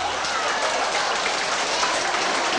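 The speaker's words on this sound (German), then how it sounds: "Applaus, meine Damen." Audience at a 1991 Luxembourg show evening applauds steadily, a dense wash of clapping that holds even and fairly loud from start to finish with no voices over it.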